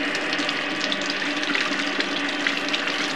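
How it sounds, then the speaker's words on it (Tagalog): Water runs steadily from a tap, a continuous close splashing hiss with no break and no voices over it. "Halika, basahin natin ng tubig."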